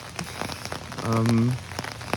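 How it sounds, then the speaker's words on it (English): Heavy rain pattering steadily on surfaces at a campsite in Munich, a dense continuous hiss with scattered louder drops and a brief low droning tone in the middle. "it's raining cats and dogs out here."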